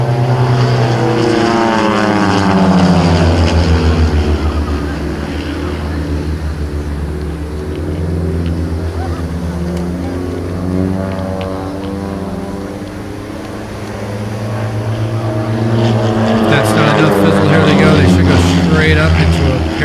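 Propeller aerobatic planes fly a side-by-side parallel formation loop at a beach airshow, their engines droning loudly and continuously with rising and falling pitch as they pass and climb.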